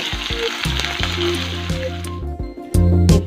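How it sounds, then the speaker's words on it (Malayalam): Chopped ginger and green chilies go into hot oil with mustard seeds, dried red chilies and curry leaves, giving a steady close sizzle and crackle under faint background music. "ഇനി നമുക്കിതിലേക്ക് അരിഞ്ഞു വെച്ചിരിക്കുന്ന ഇഞ്ചിയും പച്ചമുളകും ഇടാം."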